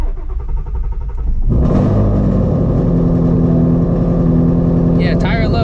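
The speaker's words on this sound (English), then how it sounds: "let's get a cold start" A Gen 1 Shelby GT350 Voodoo V8 fires up from cold after a short low rumble, catching with a loud burst and settling into a steady, high, throbbing idle, with a brief voice near the end.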